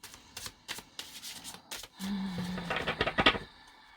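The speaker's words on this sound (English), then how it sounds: "the cards obviously want to talk. They're like, we're done shuffling." Tarot cards are shuffled up close in a series of short papery riffles and taps, ending in a longer, louder riffling burst, with no talking.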